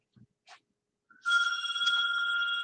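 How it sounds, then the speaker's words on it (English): A telephone bell rings, loud and continuous, after a few faint knocks and rustles; no talking. "That's your phone."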